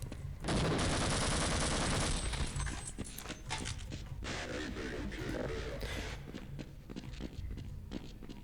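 Rapid bursts of gunfire in the Half-Life Uplink video game, a loud dense volley at first that thins into scattered shots and clattering impacts, with speech mixed underneath.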